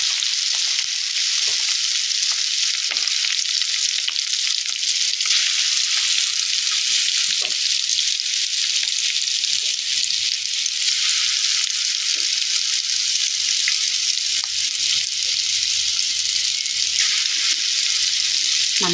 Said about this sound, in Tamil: ஏற்கனவே வெந்த முட்டை தான், அதனால் கொஞ்சம் நேரம் பொரிச்சா போதும்.